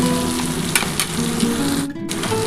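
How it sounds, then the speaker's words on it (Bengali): Potato and pointed gourd fry in hot oil in a pan, sizzling steadily and close by, with soft scraping as they are stirred and no talking. "বন্ধুরা দেখো ভাজা কিন্তু মোটামুটি হয়েই আসছে"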